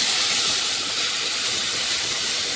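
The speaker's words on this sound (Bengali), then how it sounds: "তারপরে সুন্দর করে ফোড়ন দিয়ে দিচ্ছি" A hot spice tempering hits boiled matar dal for a sour dal made with hog plum (amra), producing a loud, dense, continuous hiss that holds steady from start to end.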